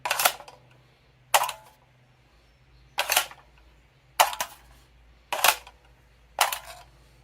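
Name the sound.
SR25 magazine inserted into the mag well of an upper receiver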